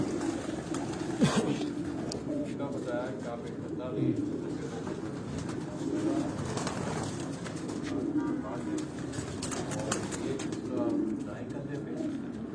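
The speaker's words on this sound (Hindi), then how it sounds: "वसीम भाई ये बहुत ही नायाब कबूतर है" A rare racing pigeon from the Barker line coos softly in a loft, low repeated throaty calls heard faintly under steady chatter, with someone talking over it.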